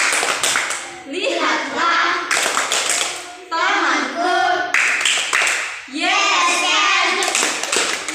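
Sharp group hand claps ring out in a steady rhythm in a classroom, loud and close, interleaved with children chanting a cheer together.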